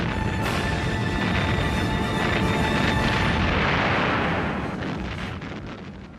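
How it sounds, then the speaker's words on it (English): Dense, sustained rumble of World War II artillery bombardment at Henderson Field on Guadalcanal, continuous heavy booms blending into a roar that slowly fades toward the end. "Henderson Field now came under bombardment"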